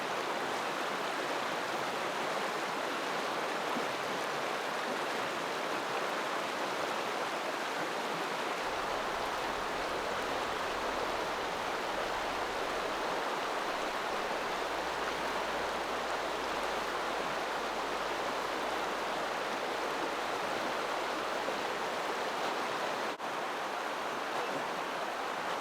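A Montana river flows steadily at dusk, giving a constant broadband rush of moving water that stays even and unbroken throughout, with no voices.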